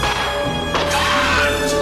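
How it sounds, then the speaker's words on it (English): A Velociraptor smashes through glass in the Jurassic Park film with a loud, sustained crash and a bright burst of shattering, then cuts off abruptly. "the Velociraptor breaks the glass"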